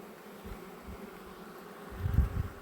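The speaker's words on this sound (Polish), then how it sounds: "Ale głośno tu jest. Chyba pod spodem są pszczoły." Honeybees buzz in a steady, dense drone close by during a spring hive inspection. The hum swells louder near the end.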